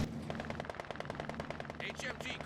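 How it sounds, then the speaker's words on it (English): Maxim machine guns firing in Company of Heroes 2, a fast, even rattle of closely spaced shots that runs steadily throughout at moderate loudness, with a voice talking over it near the end. "Triple machine guns from Crowdpleaser."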